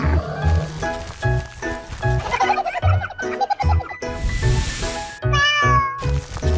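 A cartoon cat meowing loudly and repeatedly in a children's animal song, with bright animated meows over a bouncy musical backing and some sung vocals.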